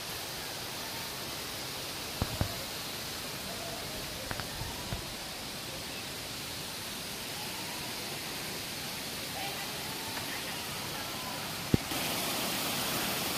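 Sai Khao Waterfall in Pattani, Thailand, gives a steady, even rush of falling water that fills the scene, with a few faint clicks on top.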